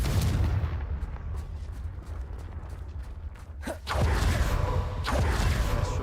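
A Confringo fire-blast spell from the video game Hogwarts Legacy: a quick rising whoosh followed by a loud, booming burst, set against a steady game ambience and no talk.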